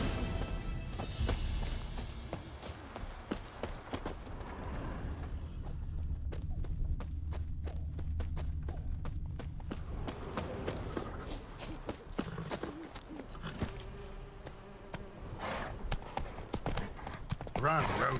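Horse hooves clip-clop steadily in The Witcher 3: Wild Hunt as a horse is readied and ridden, a rhythmic trotting patter running throughout under game music and spoken dialogue.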